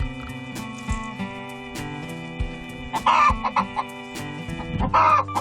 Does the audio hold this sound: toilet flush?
no